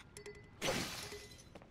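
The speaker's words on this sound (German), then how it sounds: "Deine Steinaxt ist zerbrochen" A stone axe in Zelda: Tears of the Kingdom shatters with a single bright, crunching break, its glassy debris ringing out and fading over a second after a few faint clinks.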